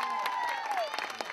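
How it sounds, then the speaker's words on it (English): Crowd applause and cheering fill a lively room, with a bright whistle-like tone sliding downward over the clapping. "let's give him a big round of applause"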